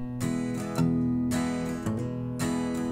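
An acoustic guitar plays a song, strumming chords with short walk-up and walk-down runs between them. A few clear strums ring out close and moderately loud, with no singing.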